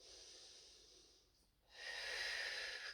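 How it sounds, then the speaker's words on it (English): Steady breathing during an abs-focused Pilates exercise, a soft long exhale fading out, then a brief pause before a stronger, breathy inhale or exhale, close and quiet. "So we'll do just 3 more breaths here."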